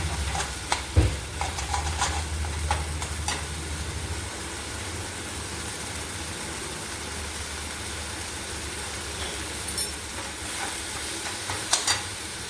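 Stone-ground poppy seed paste fries and is stirred in a pan for a vegetarian kakrol curry, with a constant close sizzle broken by occasional scraping knocks of the spoon.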